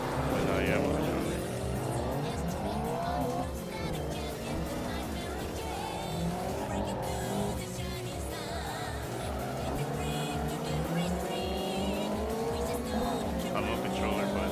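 A race car engine revs and whines with squealing tires in Assetto Corsa on the Nanamagari Touge mountain road, continuous and loud, while a person talks over it.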